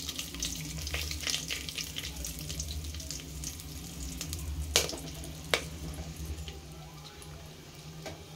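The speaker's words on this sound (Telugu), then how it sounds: "ఒకసారి చిట్టపటాన్ని సౌండ్ వస్తాను చూడండి" Cinnamon and bay leaves crackle and sizzle in hot oil over a slow flame while cooking bagara rice, a steady frying hiss with a few sharp pops, no speech.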